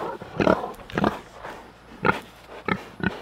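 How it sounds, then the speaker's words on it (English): Pigs being let out into a new, larger pen, grunting and oinking in a series of short, close bursts with irregular rhythm, no talking. "Let's go let the pigs out and see what they think."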